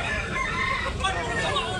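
A Sweater-breed gamecock rooster lets out a crow among clucking fowl, fairly close and clear, with a person speaking faintly in the background.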